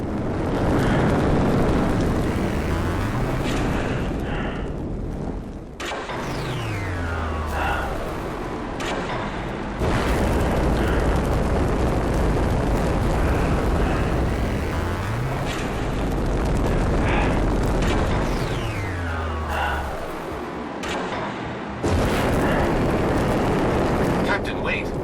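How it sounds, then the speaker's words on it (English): Shots blasting open vents to release cover in a Star Trek PC video game, with loud roaring bursts and sweeping whooshes under dense, continuous game noise. "Sir, we can shoot the vents to create cover."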